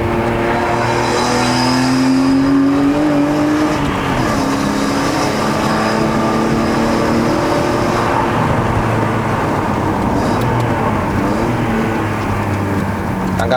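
A BMW E36 325i with a five-speed manual gearbox climbs a mountain road toward Genting in Malaysia, its engine droning steadily and loud throughout with shifting pitch as it pulls uphill.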